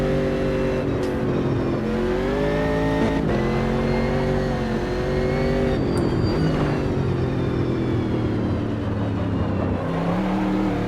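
Race car engine in the Automobilista 2 sim, a touring tin-top racer, revving loudly and continuously with rising and falling pitch through gear changes, close and steady throughout with no talk over it.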